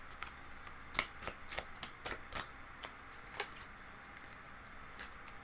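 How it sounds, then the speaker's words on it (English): A deck of tarot cards being shuffled, heard close and quiet as a quick run of crisp riffling flicks and snaps that fades into softer sliding rustles. "we'll pull one more card from this deck"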